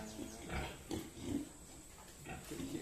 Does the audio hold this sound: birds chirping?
no